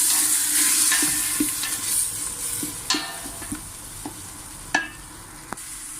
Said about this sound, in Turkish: Soğanı pembeleşene kadar kavuruyoruz.